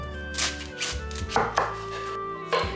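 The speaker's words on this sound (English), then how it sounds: "Place the cabbage flat side down and cut across into slices." A knife cuts across a cabbage half lying flat on a cutting board for minestrone, making four or five crisp, crunchy chops in an uneven rhythm, each ending in a dull knock on the board.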